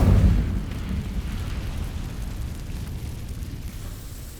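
Incendio fire spell in the video game Trials of Merlin: a loud whooshing burst at the start that trails into a long, fading rumble of flame, no talk.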